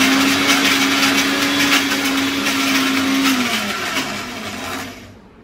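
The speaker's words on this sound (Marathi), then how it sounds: "हे जरा नवीन मिक्सर आहे ना" A new mixer grinder whirs loudly and steadily, close up, as it grinds cumin and garlic, its high motor whine holding for a few seconds before winding down and fading to silence.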